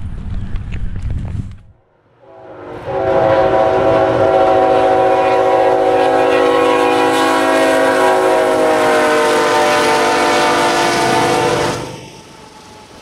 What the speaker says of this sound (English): That would be the last train on the R line that night